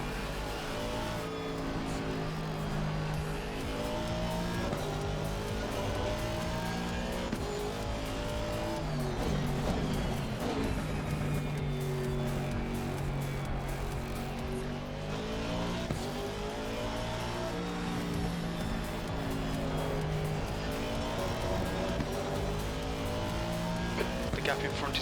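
Race cars in a sim racing game at Spa during a 24-hour event, engines revving and shifting continuously with tire squeal and passing cars; loud and sustained, with occasional radio-style talk over it.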